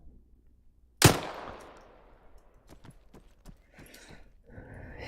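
A shotgun fires once in Arma 3 as a loud, sharp blast with a decaying tail, followed by faint scattered clicks and rustles.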